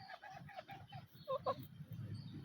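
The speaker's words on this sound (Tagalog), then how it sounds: "The chicken is here." A silkie chicken clucks in short soft bursts, several quick low clucks followed by a couple of brighter calls, faint and close, with no voices over it.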